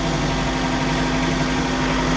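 A tractor engine idles on a ranch, a loud, steady low rumble with a constant hum close by and no pauses, no talk.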